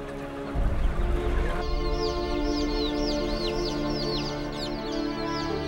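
A crowded poultry farm full of chickens, with a dense, steady chorus of clucking and high cheeping calls that carries on throughout after a short, rougher opening, and no one speaking.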